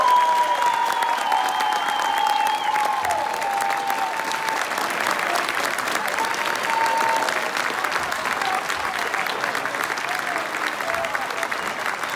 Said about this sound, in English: Big round of applause for all the graduates.